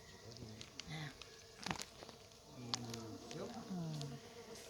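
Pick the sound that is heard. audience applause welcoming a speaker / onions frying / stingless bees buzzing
stingless bees buzzing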